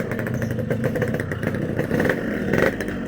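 Motorcycle engine under way on a ride at speed, a loud steady drone with rhythmic pulsing and wind rush, swelling slightly near the end, no talk.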